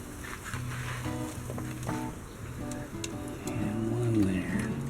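Pork butts are set onto a hot Vision Grill at around 230 degrees, giving a soft, steady sizzle with light clunks close by as someone talks throughout.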